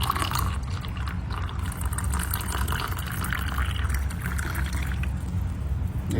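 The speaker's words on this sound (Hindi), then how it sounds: "मैं ये नमक का पानी डाल रहा हूँ" Salt water is poured in a steady, continuous stream during a silver-making process, with a constant splashing rush and no break.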